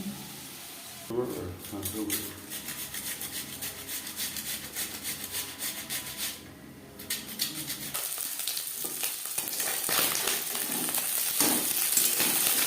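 Puti fish frying in cooking oil, a continuous close sizzle and crackle with scraping and rubbing sounds layered over it, growing brighter and louder toward the end.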